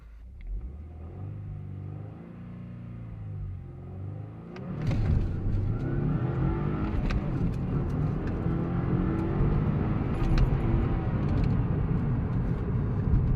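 In a driving game, a car launches from a low idle into a hard pull, its engine roaring loud and close and revving up through the gears, with brief dips at each shift.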